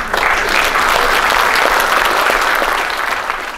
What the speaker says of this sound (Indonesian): Tolong jangan ulangi tepuk tangannya.